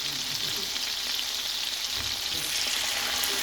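Thai chicken being half-cooked in a pan gives a steady, even hiss of frying oil. The bright sizzle runs unbroken throughout.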